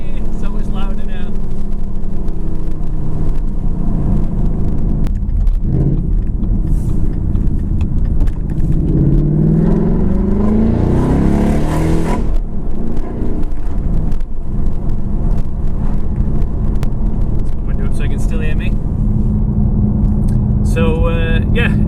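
A Ford Mustang fitted with a Roush axle-back exhaust and an H-pipe accelerates in traffic, its engine note loud and sustained across the whole stretch, swelling in the middle with rising tones, while a person talks over parts of it.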